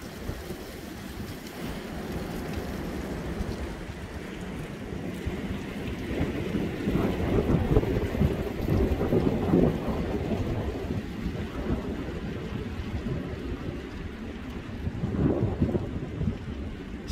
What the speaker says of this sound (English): Strong wind test. Checking it out in 26 mile an hour winds.